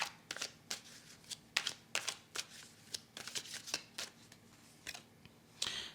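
Tarot cards flipped and laid down one after another during a reading, a run of crisp, separate slaps and paper snaps close by, with quiet gaps between them and no talking.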